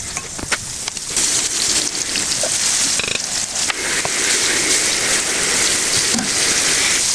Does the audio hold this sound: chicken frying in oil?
yes